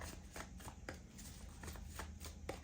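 Cards handled from a deck at a tarot-style reading, with several short crisp flicks and slides repeating at close range over a steady low background hum.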